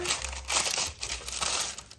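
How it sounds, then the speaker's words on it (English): Parchment paper crinkles and rustles close by as it is handled and folded in a kitchen, a steady run of dry crackling for about two seconds. "I'm going to use some parchment paper."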